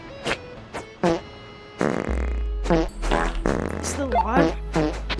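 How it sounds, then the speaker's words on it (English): Cartoonish farting sounds in the Animal Company video game, several short bursts and a longer rumbling one, mixed with excited voices and game noises. "My farting ability!"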